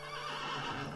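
A horse in a video game lets out a loud, close whinny, a single brief tonal neigh that fills the whole moment with no talking over it.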